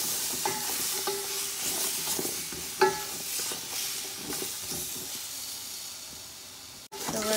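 Ground turkey being stirred in a hot pan while making chow mein, a close, soft sizzle and hiss with scraping and shuffling strokes and one sharper knock partway through.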